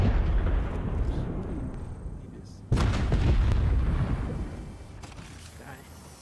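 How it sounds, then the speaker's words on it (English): Heavy video game gunfire and artillery-like explosions roll in dense bursts, with a sharp loud blast partway through, followed by continued rumbling fire that fades toward the end; voices can be heard underneath. "Where were they shooting at though? They're shooting at somebody."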